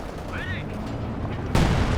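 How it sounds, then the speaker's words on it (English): A howitzer barrage in Company of Heroes 2 lands as a sharp explosive boom near the end after a whistling incoming shell, with a commentator talking beforehand. "There's the Howitzer."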